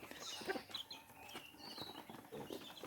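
Soft clucking from chickens at close range, several short calls scattered over a faint outdoor background with light pecking sounds.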